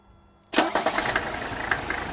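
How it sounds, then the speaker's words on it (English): A Mercedes W126 300SD diesel engine cranks and fires after a short near-silent pause, catching abruptly and settling straight into a loud, steady, rattling clatter, heard up close with no talking. "let's start the engine"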